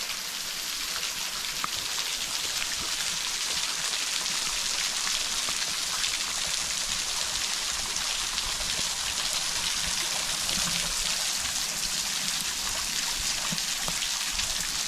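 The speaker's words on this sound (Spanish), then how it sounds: "nos llueve literalmente arriba." Steady rain falls on a forest trail on a hill, a dense even hiss of drops with occasional drips, constant and fairly close with no talk.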